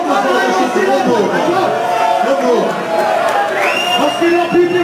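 Concert crowd at the famefabrik in Mannheim cheering, whooping and chattering loudly, a dense continuous roar of many voices with individual shouts and whistles rising above it.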